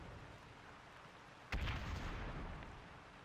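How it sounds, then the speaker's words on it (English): A loud artillery explosion in the video game ARMA 3 bursts midway through low ambient rumble, then rolls on with a long, rumbling decay. "Why not zoom in and see the explosions?"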